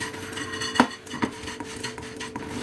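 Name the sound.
dry roasting chutney dal and red chilies in pan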